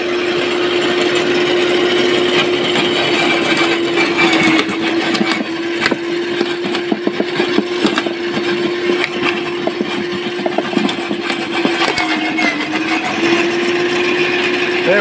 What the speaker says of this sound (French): Voilà la petite présentation de ce broyeur à végétaux que vous pouvez trouver en ce moment chez Lidl.